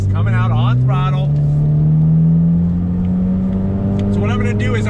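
A 2020 Ford Mustang EcoBoost with the High Performance Package accelerates hard out of a track turn, its engine drone rising steadily in pitch, loud and continuous beneath someone talking.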